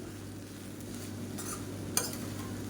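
Rice with capsicum masala being stirred in a pan, a soft steady scraping and faint sizzle with a sharper utensil clink near the end.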